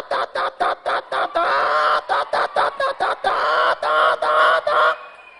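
A mimicry artist's voice imitates a rooster, delivering a rapid string of choppy clucks that swell into a loud, close crowing call on stage, then stop abruptly.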